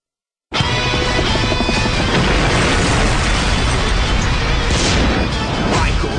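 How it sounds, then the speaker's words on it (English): Loud continuous booming blasts in Halo 3 machinima erupt abruptly after a brief silence, a dense roaring rumble of explosions that keeps going for several seconds with no voices on top. "Explosions from Michael Bay!"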